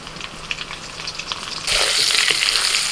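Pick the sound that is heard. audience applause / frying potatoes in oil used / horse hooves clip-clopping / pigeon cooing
frying potatoes in oil used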